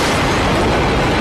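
A loud explosion from a dubbed Indian action film, a single dense roaring blast that fills the whole moment with no speech.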